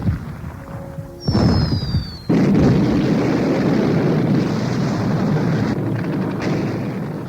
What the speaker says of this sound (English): Miles away, gun thunder leaps and thuds along the ridge.